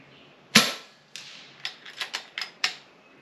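Several sharp air-rifle reports from an FX Impact M3 firing slugs, one loud crack followed by a series of quicker, quieter pops spaced unevenly over a few seconds, close by with no talk.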